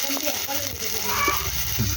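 Steady sizzling from onions and tomatoes sautéing in a pan for a stingray fish curry, with a voice talking faintly in the background.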